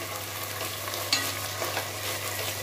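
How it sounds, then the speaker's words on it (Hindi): Rice stirred and lightly roasting in ghee for Rajasthani kheer, a soft steady sizzle with occasional spoon scrapes against the pan, close and fairly quiet. "इसमें हम घी इसलिए डालते हैं कि चावल को हल्का सा भून लो"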